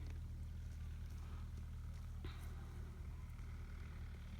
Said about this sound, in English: Tractor coming along.